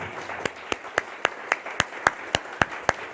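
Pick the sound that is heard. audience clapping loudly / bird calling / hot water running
audience clapping loudly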